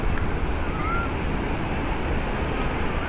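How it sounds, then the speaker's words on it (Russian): Steady roar of fairly high sea surf breaking at the central beach in Anapa after heavy rain, a dense continuous wash of water with wind noise and no voices. "Ну, волна достаточно высокая."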